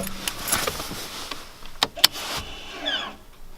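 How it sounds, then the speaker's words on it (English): Emergency brake engaged inside a 2011 Audi S4 with a six-speed manual: sharp close clicks and snaps, then a brief mechanical whir, with no talking. "Show how you put the emergency brake on."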